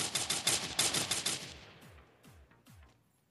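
Rapid automatic gunfire in the mobile battle royale game Free Fire, a fast burst of shots up close followed by a few fainter, spaced shots trailing off, with no talk over it.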